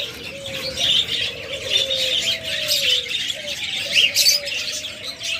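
Rainbow lovebirds in a cage at a bird sale chirp steadily, with repeated high tweets and a few sharper calls close by, alone with no talk.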